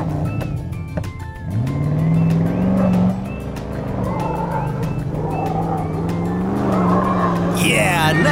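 A toy car drives through a course of cones, its motor whining and rising in pitch with a squealing skid, close and fairly loud, with brief voices near the end.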